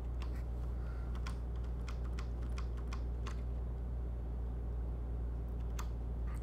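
Fast, irregular clicking of keys on a computer keyboard, faint and close, over a constant low hum from a fan or engine, with no talking.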